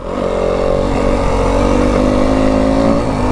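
Yamaha WR250F dirt bike ridden on rocky single track, its engine droning loud and close with steady revs and slight pitch shifts throughout, no talk.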